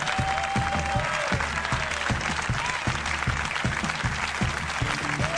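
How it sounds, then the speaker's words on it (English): An audience at a Mitch Hedberg stand-up comedy show applauds steadily, a dense close wash of clapping with a few whoops rising through it. "It's very cool of you to applaud for me."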